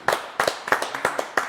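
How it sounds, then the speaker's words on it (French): Sparse, loose clapping from a small studio audience at a live television interview set: roughly five distinct bursts of hand claps spaced through the moment, fairly close and crisp, with no voices over them. "on l'applaudit quand même, Ben."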